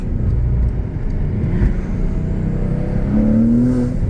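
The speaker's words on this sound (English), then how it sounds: "He hears the turbos." A Porsche turbo engine rumbles steadily up close, then revs higher with a rising turbo whine near the end.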